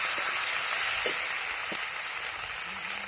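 Turmeric is stirred into hot oil in a pan. A steady, hissing sizzle runs throughout, with a few faint scraping strokes close by over a constant background hum.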